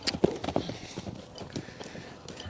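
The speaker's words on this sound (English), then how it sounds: "I would rather him not be running to avoid me like he is right now." A horse runs away, its hooves clip-clopping in quick, fairly close irregular strikes that fade somewhat toward the end.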